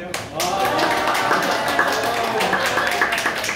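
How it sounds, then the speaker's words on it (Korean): Audience at a redevelopment and reconstruction lecture claps loudly at intermission, a dense steady patter of many hands with voices mixed in throughout. "자, 박수 크게 쳐주세요."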